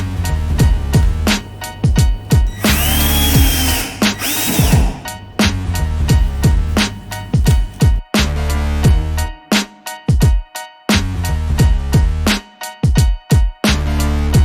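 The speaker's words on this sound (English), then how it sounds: "Using a traditional screwdriver often leads to strip threads or misaligned shafts." A power driver or drill works minifix cam lock furniture fittings, whirring in short repeated loud bursts with spin-ups, stops and abrupt pauses, heard close with no speech.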